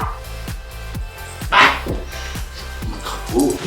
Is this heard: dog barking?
yes